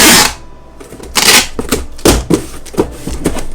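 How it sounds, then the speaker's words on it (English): Packing tape is pulled off the roll and pressed across the flaps of a cardboard box for shipping pottery. It comes as a loud opening rip followed by several short, close scratchy bursts and pats of a hand smoothing the tape down. "Taping it this way first kind of holds the flaps together, and then I can tape it this way."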